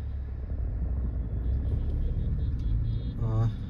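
Steady low rumble of road traffic heard from inside a car stuck in a jam near Ranjangaon, continuous engine and tyre drone with a brief rising tone near the end.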